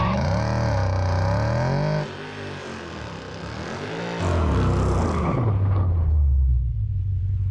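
A supercharged 700 hp 2024 Ford Mustang GT idles and rolls into the drag strip staging line, its engine a loud close rumble that dips and then swells.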